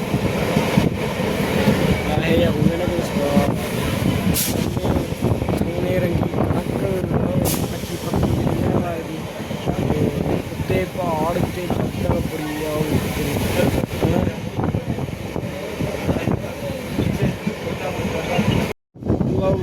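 Steady, loud rumble and clatter of a moving passenger train on the way to Anandpur Sahib, with continuous wheel and carriage noise and wind buffeting throughout, while people talk over it.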